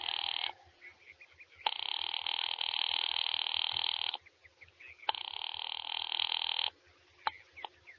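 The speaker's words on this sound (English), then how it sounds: "Ringing Murray Hill" An old-fashioned telephone bell rings in long repeated bursts with short pauses between, fairly clear and alone.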